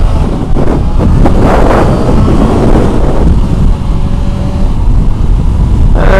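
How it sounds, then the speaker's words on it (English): A Yamaha XJ6 600cc motorcycle is ridden at speed, with a loud, steady low engine drone buried under heavy buffeting wind noise on the microphone. "I'm currently riding a Yami XJ6, it's 600cc."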